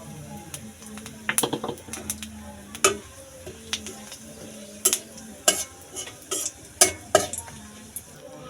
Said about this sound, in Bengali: এবার ওই তেলেই কিছুটা ফোড়ন দিয়ে দেব